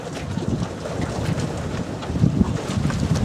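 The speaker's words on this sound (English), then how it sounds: "It's quite breezy today" Steady breeze buffeting across an RS Vision sailboat during reefing of the sail, a continuous rushing, wind-on-microphone roar with mild gusting and no clear talk.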